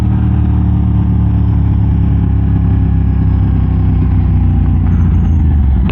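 A motorcycle engine idles close by, steady and loud, with a constant low throb and no speech over it.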